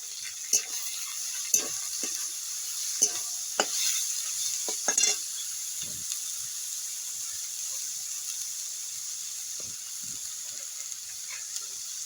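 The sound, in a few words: stir-frying carrot, capsicum and tomato for momo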